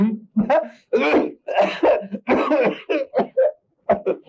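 A man in an old Turkish comedy film coughs and clears his throat in a rapid run of harsh, close bursts, with gasping vocal noises between them.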